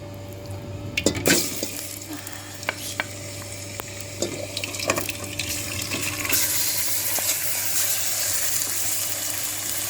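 Chicken frying in hot oil in a pot for biryani, a steady sizzle running throughout with stirring clatters and a brief splash of water, no talking.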